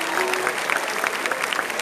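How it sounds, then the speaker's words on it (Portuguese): Outdoor crowd applauding in a dense, steady wash of claps that holds at a fairly loud level throughout, with no voices standing out. "uma salva de palmas, São Pedro"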